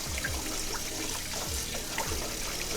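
Rice is rinsed in water, a steady close sloshing and trickling that runs continuously, with small irregular splashes and no speech.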